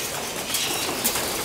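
Pigeons in a loft give a close, steady bustle of soft cooing and shuffling over a brief moment.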